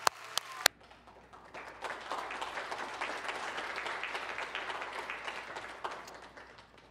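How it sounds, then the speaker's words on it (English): A church congregation bursts into applause during a Sunday service, after a few sharp taps. Steady, dense clapping from many hands builds and holds for several seconds before tapering off, heard from a moderate distance. "Round of applause for these wonderful workers."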